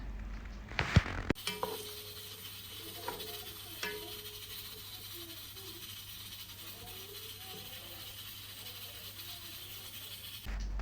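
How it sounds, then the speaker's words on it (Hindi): Chopped onions frying in oil, a steady soft sizzle that runs throughout, preceded by a few clattering pan and utensil knocks as they go in. "अब इनको ऑयल में डाल के लाइट ब्राउन कर लेंगे।"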